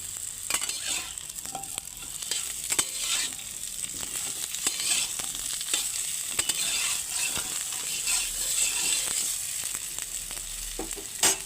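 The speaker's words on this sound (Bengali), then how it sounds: "সামান্য লবণ দিয়ে একটু আলুগুলোকে একটু নেড়ে চেড়ে নেব" Potatoes frying in a little oil with salt, stirred in the pan: a steady close hiss of sizzling with frequent scraping and clicking spoon strokes throughout, and no talking.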